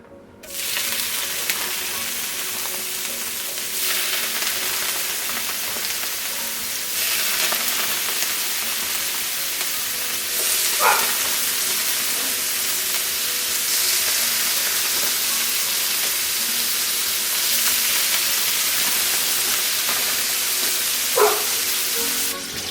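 Food sizzles and crackles in a hot frying pan, a steady loud hiss that continues without pause, with a few brief clinks over it.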